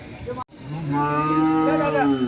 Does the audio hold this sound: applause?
no